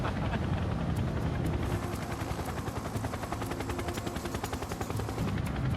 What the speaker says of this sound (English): The Chinook proceeds at low level across the Antrim Hills